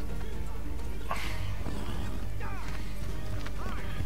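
A horse gallops in Assassin's Creed III, its hooves clip-clopping under busy game noise with a whinny and a voice talking over the top.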